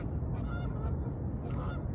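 Geese honk outdoors in a few overlapping calls, fairly close and clear, over a steady background rumble.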